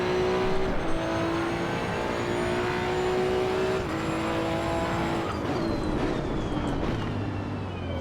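A Maserati GT2 race car engine in Assetto Corsa EVO roars steadily at high revs, its pitch sliding slightly as it holds speed and then dropping with a gear change near the end. No one speaks.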